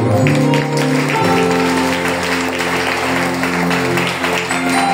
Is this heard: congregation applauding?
yes